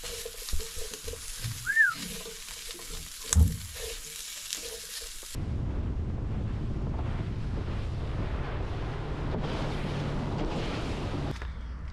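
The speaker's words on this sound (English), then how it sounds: "Cooking up some calamari" Calamari frying in a pan outdoors on a boat, with wind buffeting the microphone at first, then a steady, dense sizzle for the second half.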